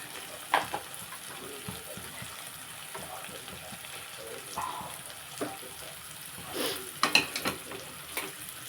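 Cumin and coriander powder being stirred into curry frying in a pan, a low steady sizzle with several sharper scrapes and clinks of the spoon scattered through, no voices.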